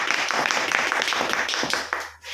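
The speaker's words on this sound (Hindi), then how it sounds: "एक बार ताली बनती है, कहना चाहिए।" An audience clapping together at a business plan presentation, a dense burst of many hands close and loud, tapering off near the end.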